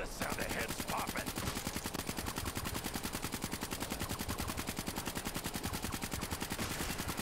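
Rapid, sustained automatic gunfire in a zombies mode video game, with zombie heads popping among the shots; a loud, dense, unbroken rattle of steady fire continues throughout, with no talk.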